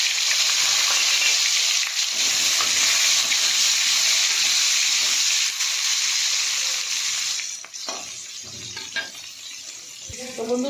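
Tomato and onion go into a hot pan and fry with a loud, steady sizzle close up, easing slightly near the end as a few stirring knocks and clatters come through.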